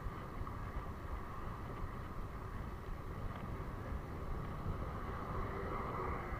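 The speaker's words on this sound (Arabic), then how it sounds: "ها الريح دابا ولا ضبي شويه" Wind blows steadily against the microphone during a bicycle trip from Belksiri to Moulay Bousselham, forming a continuous broadband rumble with no pauses and no voices.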